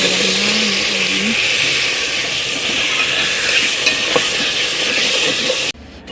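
Potatoes fry and get stirred into a salan curry in a pan, a loud, continuous sizzle with scraping stirs and a brief clink near the end before it cuts off.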